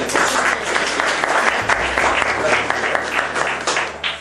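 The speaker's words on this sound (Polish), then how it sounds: "Proszę o brawa dla siebie." Loud, close applause at a school poetry recitation contest, many hands clapping in a dense, continuous burst for the participants.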